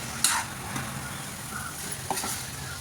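Drumstick pods stir-fried in a pan, a steady sizzle with occasional scraping clinks of a spatula against the metal, close and moderately loud with no talking.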